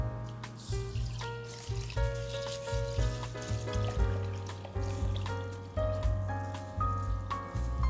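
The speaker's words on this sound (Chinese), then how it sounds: "米我已经洗2-3遍了，最后1遍我会用过滤水冲洗一下" Rice grains are rinsed under running water, giving a close, bubbly splashing and trickling with uneven gurgles and drips and no talk over it.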